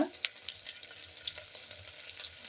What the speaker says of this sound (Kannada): ಪಲಾವ್ ಎಲೆ ಇದನ್ನು ಎಲ್ಲ ನಾವು ತುಪ್ಪದಲ್ಲಿ ಬಡಿಸ್ಕೊಳ್ಳೋಣ